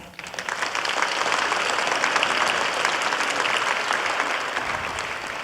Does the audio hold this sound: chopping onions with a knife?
no